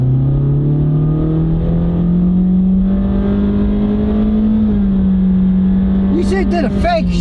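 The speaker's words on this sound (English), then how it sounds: "it does take off decently, but at very high RPMs" Honda car with a CVT transmission accelerating hard at high RPM on a drag strip, a steady droning engine note that climbs and holds high, with a brief dip like a simulated shift near the end, heard from inside the car.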